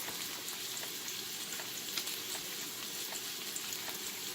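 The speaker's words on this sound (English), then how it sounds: "we're going to let them sizzle for a second." Cod croquette cakes fry in a pan, giving a continuous close crackling sizzle with faint pops and no talking.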